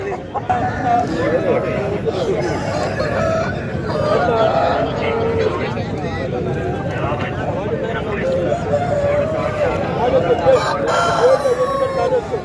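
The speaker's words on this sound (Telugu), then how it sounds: "ఓకే ఇంకా చూద్దాం ఇంకా కోడి ఉంది" Country chickens and roosters cluck and call at a busy poultry market, continuous bird noise mixed with constant crowd chatter and nearby talk.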